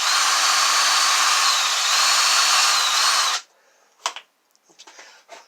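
A power drill bores a hole down into wood beside a linear actuator motor, running steadily and loudly for about three seconds before stopping, followed by a few faint clicks and handling taps.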